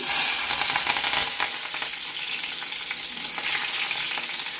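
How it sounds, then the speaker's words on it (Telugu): Cumin seeds and green chilies hitting hot oil in a pan with a little ghee, a loud, dense crackling sizzle that stays strong and continuous throughout, up close with no voices. "ఆయిల్ హీట్ ఎక్కింది కొద్దిగా జీలకర్ర వేస్తున్నాను తర్వాత పచ్చిమిర్చి"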